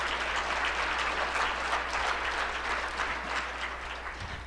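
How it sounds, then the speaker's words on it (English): A forum audience applauds its organizing committee, a dense, steady wash of clapping from many hands that holds for several seconds and eases slightly toward the end. "And let's give them a round of applause."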